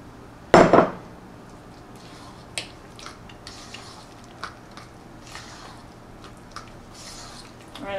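A spoon folds pomegranate seeds into pound cake batter in a mixing bowl, opening with one sharp, loud clatter against the bowl, then sparse soft taps and scrapes at a quiet level.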